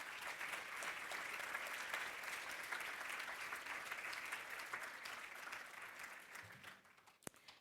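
Steady, loud applause from a large crowd for students at the Schools Spectacular 2016 launch, sustained for several seconds before tapering off, with one sharp clap near the end.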